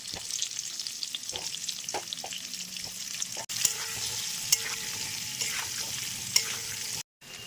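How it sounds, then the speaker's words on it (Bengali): Potatoes sizzling in hot oil with tempered spices in a pan for a vegetarian aloo dum, a continuous close crackle with occasional stirring scrapes and clinks, no talking. "এর মধ্যে আমি দিয়ে দেবো আলুগুলোকে। প্রথমে একটু ভাজা ভাজা করে নেবো।"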